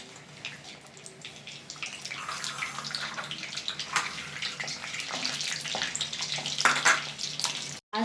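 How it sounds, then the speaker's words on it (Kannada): Mustard seeds and fenugreek sizzle and crackle in hot oil, a steady frying hiss with scattered pops that grows slightly louder before cutting off abruptly. "ಈಗ ಇದನ್ನ ಚೆನ್ನಾಗಿ ಫ್ರೈ ಮಾಡ್ತೀನಿ ಎಣ್ಣೆಯಲ್ಲಿ"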